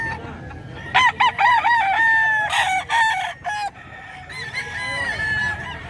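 Fighting roosters bred as gamecocks in Bocaue, Bulacan crow loudly and close in a string of ringing calls, with overlapping crows and clucks, then more distant crowing against faint background noise.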